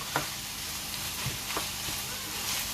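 Lamb sauce with oregano, tomato paste, pepper and chili flakes simmering in a pan for shepherd's pie, a quiet continuous sizzle broken by occasional light stirring clicks and scrapes, close by.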